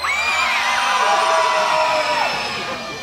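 An audience at a Night Safari evening show yells and cheers loudly all at once, with high children's shouts and whoops blending into a dense, sustained roar that eases slightly toward the end.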